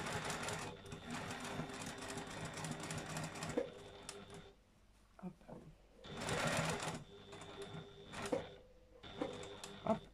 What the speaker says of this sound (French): je vais commencer par faire une piqûre de soutien ici. Marche avant, marche arrière comme d'habitude.